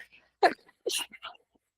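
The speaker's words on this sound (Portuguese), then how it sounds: "tô querendo espirrar de novo" A sneeze bursts out sharply and close during an online class session, followed moments later by a second breathy, noisy burst and faint murmured sounds; no clear speech.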